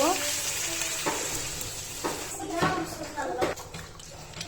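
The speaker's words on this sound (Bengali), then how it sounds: "এখন নাড়াচাড়া দিয়ে দুধটা চিকেনের সাথে ভালোভাবে মিশিয়ে নিব" Milk is stirred into a chicken roast cooking in a pot, a steady sizzle and bubbling broken by the scrape and clack of a spoon, with a voice speaking over the cooking sounds.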